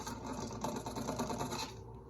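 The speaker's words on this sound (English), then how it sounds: "make sure that you bring the machine back to speed 1 and you mix it till it is completely incorporated into the dough" A stand mixer kneads enriched dough with fruit and aniseed at low speed, giving a continuous close mechanical whir with rhythmic churning that fades near the end, no talking.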